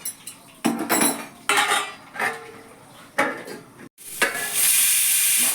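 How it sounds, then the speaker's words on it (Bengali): A metal lid set onto a pot of chicken curry with potatoes: several close metallic clanks and scrapes in short bursts, then a sustained hiss of cooking under the cover. "এখন সুন্দর করে ঢেকে নিচ্ছি"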